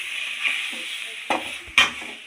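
Oil hisses and sizzles steadily as chicken fries in a hot pan for chicken pickle, with a couple of sharp clanks from stirring toward the end.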